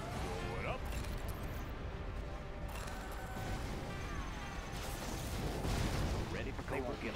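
Particle cannon blasts from the Command & Conquer Generals real-time strategy game, a dense, loud, continuous roar of energy fire and explosions that runs the whole stretch, with a game announcer voice speaking over the battle noise.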